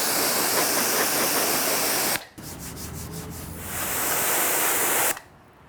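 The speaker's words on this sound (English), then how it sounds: "get your water source and just clean out your tools before dipping them back in there" Cleaning tools rinsed under running water give a steady broad hiss and spray, broken by a brief pause and a shift in tone midway, then cutting off near the end.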